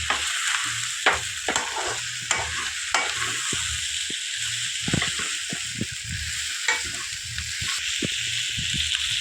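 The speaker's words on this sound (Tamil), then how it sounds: "நல்லா வதங்கி வந்துடுச்சு. இப்போ இதுக்கு மிளகு தூள் கொஞ்சம் போட்டுடலாம்." Masala for dhaba-style chicken curry fries in a pan with a continuous close sizzle, broken by repeated scraping and stirring strokes of a spoon against the pan.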